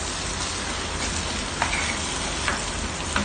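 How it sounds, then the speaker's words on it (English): Tomatoes sizzle steadily in a pan for Filipino menudo with minced beef, a dense, even frying hiss with a few soft stirring clicks, close and alone without talk. "We will cook the tomato, guys, for about 4 minutes."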